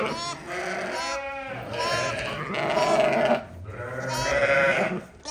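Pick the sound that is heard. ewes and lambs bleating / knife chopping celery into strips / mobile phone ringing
ewes and lambs bleating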